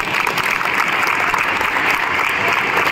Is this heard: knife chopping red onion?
no